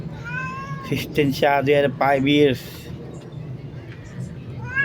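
A cat meows repeatedly, several drawn-out cries rising and falling close by, with a person speaking over and between them.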